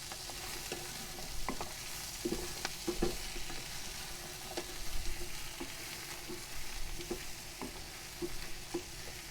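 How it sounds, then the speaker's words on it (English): Onion, carrot and garlic sweating in a camp pot for a lamb casserole, stirred steadily: a soft continuous sizzle with repeated scraping and clacking strokes of the spoon, close and fairly even, with no talking. "Just keep on stirring them up while you're sweating them off there."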